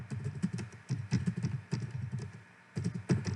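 Typing on a computer keyboard comes through as rapid, close clicking in short flurries with brief pauses between them, and no voices.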